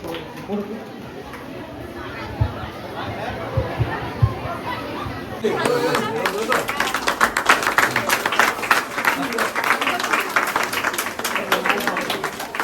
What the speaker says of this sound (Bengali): সঠিক উত্তর দিয়েছে, হাততালি হোক